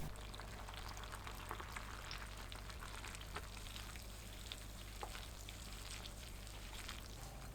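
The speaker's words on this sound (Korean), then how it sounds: "뜨거운 상태 그대로 버섯과 청양고추 위에 부어줍니다" Hot brine of vinegar and soju pours over mushrooms and cheongyang chilies, giving a steady, faint sizzling hiss with scattered crackles and no voices.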